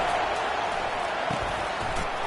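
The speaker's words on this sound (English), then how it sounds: "It is getting loud as this crowd tries to help its defense." Stadium crowd in a college football video game, a steady loud roar of cheering and noise, continuous and distant-sounding, with a few low thumps.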